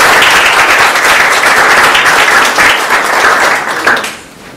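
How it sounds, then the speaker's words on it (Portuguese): Loud, dense applause from a lecture audience at a Turing centenary talk, many hands clapping steadily for about four seconds before stopping abruptly. "uma salva de palmas pessoal."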